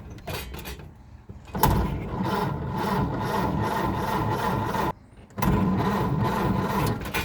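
A Ford Model A starter motor cranks the engine in a steady, loud whirring grind, stopping briefly for a moment before cranking again without the engine catching.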